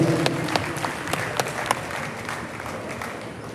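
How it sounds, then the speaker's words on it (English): A crowd applauds in an arena at a junior livestock show after the bull class, a broad wash of clapping with a few sharper close claps early on that thins out and fades toward the end. "give those guys a round of applause and a big congratulations as well for the job they've done"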